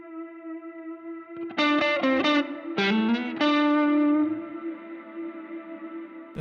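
Shoegaze guitar chords swell into a sustained pad through a reverb pedal, with a few loud strummed bursts over a steady drone, then a long, washy reverb tail fading out; no talking.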